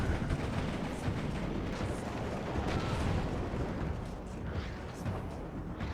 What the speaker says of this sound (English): You guys do see the artillery coming in here